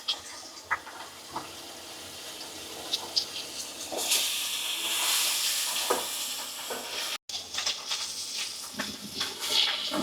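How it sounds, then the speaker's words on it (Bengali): Fish sizzle in hot oil in a pan as they are fried until red, a soft crackling hiss with occasional sharper pops and a louder burst of spitting partway through. "আমি এখন একে একে মাছগুলো সব দিয়ে লাল করে ভেজে নেব"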